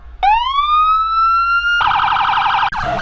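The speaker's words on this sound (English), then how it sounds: "we're gonna test the siren speaker" A loud police siren speaker on a crashed sheriff's Police Interceptor wails up and holds a steady tone, then switches to a rapid warbling yelp, close by.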